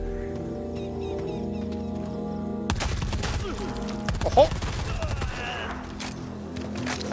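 Gunfire in the video game Predator: Hunting Grounds, a burst of rapid, overlapping shots with thuds that breaks in after a stretch of game music and ambience, heard alongside a player's brief shout.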